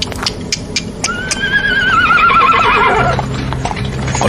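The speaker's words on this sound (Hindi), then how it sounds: "कोच पर सवार हुआ और घोड़े चल पड़े" Horses pulling a coach give a long, loud whinny over steady clip-clopping hooves as the coach sets off, with the hoofbeats carrying on after the neigh fades.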